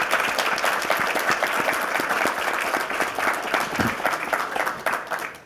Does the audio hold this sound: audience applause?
yes